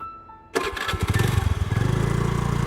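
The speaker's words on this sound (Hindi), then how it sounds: "अपनी स्कूटर लेकर निकल पड़ा वो।" A scooter engine cranks and catches after half a second of quiet, then settles into a loud, close, rapid putter that steadies into an even idle.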